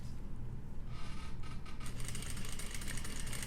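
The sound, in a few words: sewing machine stitching a patch pocket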